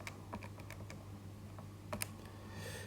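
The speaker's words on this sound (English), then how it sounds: "So type that into your calculator." Fingers tap a run of light, quick key presses on a calculator, faint and close, with uneven spacing and no talking.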